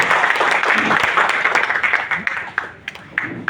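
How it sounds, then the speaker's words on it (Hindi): Dense crowd applause at a comic poetry gathering fills the room, steady and loud, then thins into scattered claps toward the end. "सम्मान में जोरदार तालियां बजाइए"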